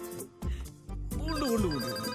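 An iPhone rings with a melodic ringtone for an incoming call in a Telugu movie comedy scene, its rising and falling tones close and clear for about two seconds.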